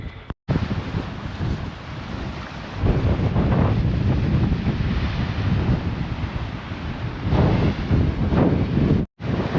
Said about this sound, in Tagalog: Grabe, lakas ng alon oh.